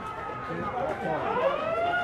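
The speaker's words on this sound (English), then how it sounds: "And there is the siren." Half-time siren sounding at a rugby league Emerging Nations World Championship final between Malta and Niue, a wavering tone sustained over crowd noise and commentary talk throughout.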